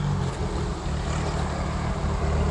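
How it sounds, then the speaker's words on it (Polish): A propeller airplane passes low overhead near a rural airfield by a forest, a steady droning engine rumble that stays loud and constant throughout, with no talk. "A nie, to samolot, kurna. Myślałem, że jakiś traktor jedzie."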